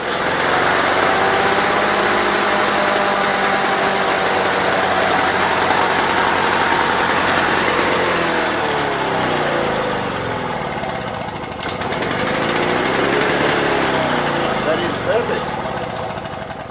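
A Honda walk-behind lawn mower engine runs steadily and loudly at close range, holding an even drone the whole time, with a slight dip and rattle partway through.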